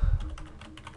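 Fingers typing a web address on a computer keyboard: a quick run of soft, close key clicks in an even patter after an initial thump, with no talk.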